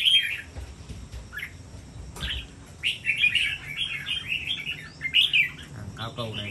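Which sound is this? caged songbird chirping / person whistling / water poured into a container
caged songbird chirping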